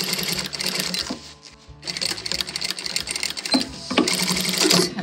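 A sewing machine stitches along a skirt waistband, a loud, steady rapid whir with a brief pause partway, then running on again, close up with no talk.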